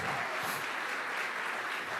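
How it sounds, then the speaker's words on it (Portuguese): A church congregation applauds during a worship service, a faint, steady wash of many hands clapping at a distance, with no voices over it. "Aplauda o Senhor em nome de Jesus."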